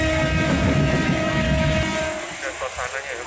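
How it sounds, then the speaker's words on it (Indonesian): A passenger train on a hilly railway line picks up speed, with a loud, close rumble and rattle of the cars and a steady tonal whine that fades and thins toward the end. "Tancap gas ini kereta api kita"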